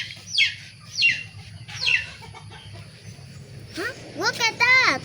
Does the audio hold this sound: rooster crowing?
yes